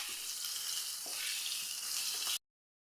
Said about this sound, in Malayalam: നമ്മുടെ തേങ്ങയും പഴവും ഒന്ന് നമുക്ക് വാട്ടിയെടുക്കാം.